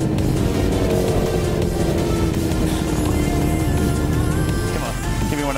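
Dirt bike engine droning loudly while riding through city streets with wheelies, a steady close roar with shifting pitch and no clear speech over it.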